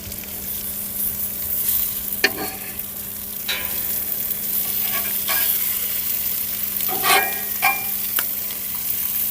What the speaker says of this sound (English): I'm gonna cook me some breakfast on the griddle